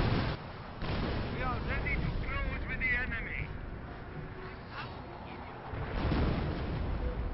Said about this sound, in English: I got a rocket barrage ready.